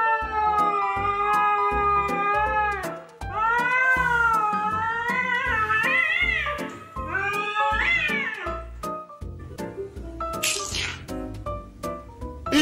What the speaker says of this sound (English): The neighbor's cat comes over while your kitten is upset because he can't go out.